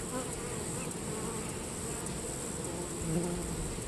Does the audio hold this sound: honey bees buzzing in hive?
yes